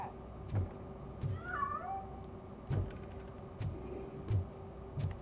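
A cat meowing in the video game Robocop Rogue City: one drawn-out, wavering meow in the middle, set against soft thumps and a low steady hum, fairly faint, with no talking.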